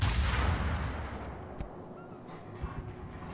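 Heavy 203 mm eight-inch naval guns aboard the cruiser Salem in World of Warships fire with a loud, booming blast that rumbles away, followed by a sharper distant crack and lingering battle noise.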